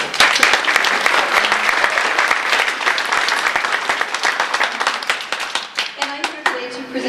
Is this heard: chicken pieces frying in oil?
no